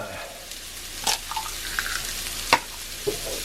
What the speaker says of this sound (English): Give this whole thing a nice stir.